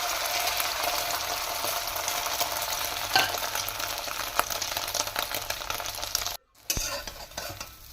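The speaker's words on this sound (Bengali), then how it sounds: "ফের একটা বেঁচে থাকা ডিম ভাজছি।" A leftover egg frying in a pan while joga khichuri is cooked: a steady, close crackling sizzle with stirring and scraping, briefly cutting out near the end before resuming.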